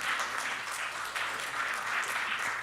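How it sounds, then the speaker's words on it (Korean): Warm, sustained applause from an academic conference audience welcoming a presenter to the podium, an even wash of many hands clapping at moderate distance with no voices over it. "힘찬 박수로 맞아주시기 바랍니다"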